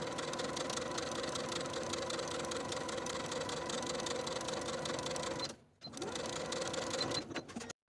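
A sewing machine edge stitches close to a freshly pressed seam edge on a kimono jacket, a steady loud mechanical whir running continuously with a brief pause before resuming and stopping at the end.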